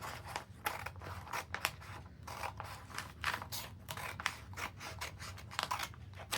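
Scissors snip through fabric to cut out a pattern piece with seam allowance for homemade bib overalls: a close, steady run of crisp, rhythmic cuts with light rubbing of cloth and no talk.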